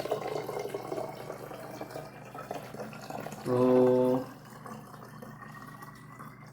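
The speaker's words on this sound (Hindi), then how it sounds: "अब मैं पानी को थोड़ा ऊपर तक भरता हूँ" Water pours into a demonstration container during a physics experiment on potential difference, a short burst of filling and gurgling standing out over a steady background hum, with a brief spoken word nearby.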